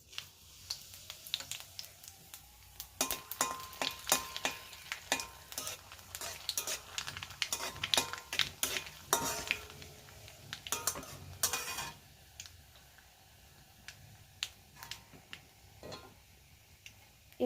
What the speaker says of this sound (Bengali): তেলের মধ্যে আমি দিয়ে দিলাম দুটো শুকনো লঙ্কা, আর দিয়ে দেবো কালো জিরে ফোড়ন